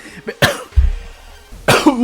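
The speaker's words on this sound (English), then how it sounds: "As I cough here." A person coughs several times in quick, close bursts, with brief breaths in between.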